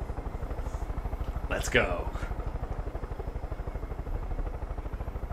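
A helicopter in the video game Far Cry 5 thrums with a steady, loud rotor chop throughout, a rapid even pulse under a brief spoken line.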